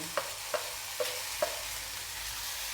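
Pavta bhaji being stirred with spices in a pan: four light, evenly spaced clinks or taps of a spoon on the pan over a faint sizzle, close and quiet, with no one talking.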